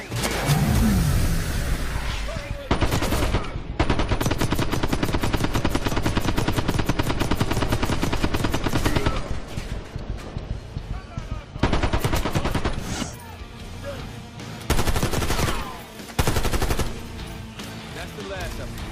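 A Call of Duty Black Ops 6 minigun fires in long, loud, continuous roaring bursts with brief pauses between them, and game dialogue is spoken over the shooting.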